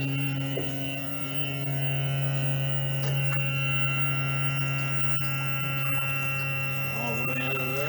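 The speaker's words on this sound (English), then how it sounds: "Just want to make sure that the outboard is centered before you raise it back up." Power tilt motor raising a boat's outboard engine, heard as a steady electric hum with a rising whine near the end, close and continuous.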